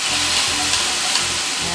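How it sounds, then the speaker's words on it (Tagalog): Tomato sautéing in a hot pan, a steady bright sizzle and hiss of frying with faint stirring taps throughout. "So medyo mainit na siya, kailangan na natin igisa itong tomato natin."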